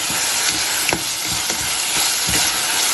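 Wild mushrooms stir-fry in hot oil, with oyster sauce nearby, giving a loud, steady sizzle and hiss broken by several soft scraping stirs of the spatula, close up and with no talking.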